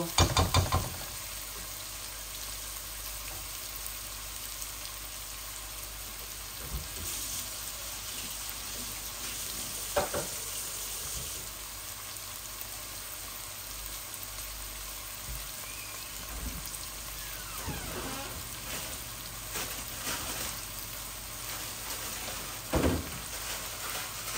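Onions frying in a pan for chicken biryani, a steady quiet sizzle with occasional clinks and stirring scrapes, no one speaking.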